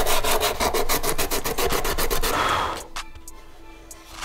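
Brisk back-and-forth sanding strokes rasp over super glue and baking soda filler on a scale model, rapid and close for a couple of seconds, then quieter scattered scrapes and taps.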